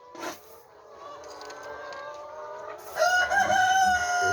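Chickens at a community chicken farm in South Korea cluck steadily and a rooster crows loudly near the end, with a busy mix of fowl calls throughout and a brief voice early on.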